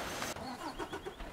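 A truck engine starts in Farming Simulator 25: a broad, rough rush of cranking and catching that rises into a low running rumble, close and loud, with no talk over it.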